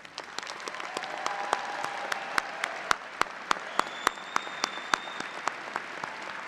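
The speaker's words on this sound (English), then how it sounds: "I ask you now to please join me in recognizing your family and friends in" Sustained applause fills a large spring graduation ceremony at Northeastern's College of Professional Studies, the crowd's dense clapping broken by sharp, regularly spaced loud claps or clacks close by, and a faint whistle or cheer drifting over it.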